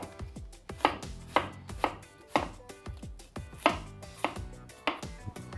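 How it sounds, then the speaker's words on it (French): A knife chopping spring onion coarsely on a cutting board, with a steady series of about a dozen sharp, close, evenly spaced cuts and no talking. "Je vais récupérer mon oignon. Je vais l'émincer assez grossièrement."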